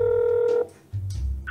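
Telephone dialing tones from a recorded phone call to a sales line, heard as a sustained steady tone that cuts off, then lower buzzing tones, close and loud with no talking.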